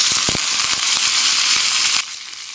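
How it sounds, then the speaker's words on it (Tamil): Mustard seeds and curry leaves tempering in hot oil for brinjal kadayal, a loud continuous sizzle dotted with sharp popping crackles, dropping suddenly to a quieter hiss near the end. "கொஞ்சமாக எண்ணெய் விட்டுக்குவோம். கடுகு போட்டுக்கலாம்."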